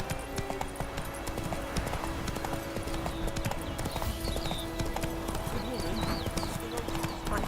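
A horse galloping in The Witcher 3: Wild Hunt, rapid rhythmic hoofbeats over a busy game soundscape of ambience and effects, with a voice speaking over it.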